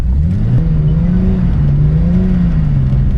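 A car drifting and spinning out in a roundabout on an open road, its engine droning and rising and falling in pitch as it slides, loud and steady throughout without talk.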